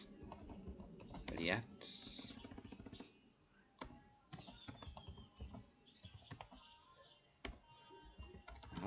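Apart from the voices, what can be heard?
typing command on computer keyboard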